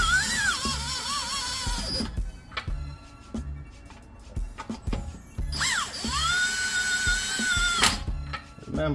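A power tool tightens the wheel lug nuts on a BMW F06 fitted with wheel spacers. It runs in several close, whirring bursts whose pitch rises and falls, with pauses and clanking between them.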